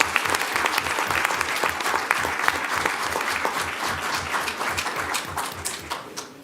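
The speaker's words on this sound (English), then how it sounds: "Let's give a big round of applause to the teachers from AIM." A crowd applauds steadily with dense, lively clapping that holds for several seconds before starting to taper off.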